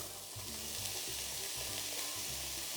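Chopped red onions frying in a tablespoon of heated olive oil, a steady close sizzle running the whole time with a low hum underneath and no talking.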